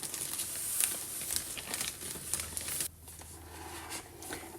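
A black Chanel box is opened and its dust bag and paper crinkle and rustle close up in a steady stream of soft crackles and crumples, quieting briefly partway through before resuming.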